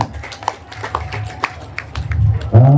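Scattered hand claps ring out at an outdoor community marching-drill event, a handful of separate claps spread irregularly before a loud voice cuts in at the end.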